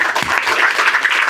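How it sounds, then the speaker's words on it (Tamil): Audience at a motivational self-development lecture breaks into dense, steady clapping that fills the whole short moment at an even, fairly loud level. "கைதட்டுங்களா"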